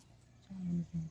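Pigeons coo in two low, soft, drawn-out hums close by in a quiet space, the second one shorter than the first.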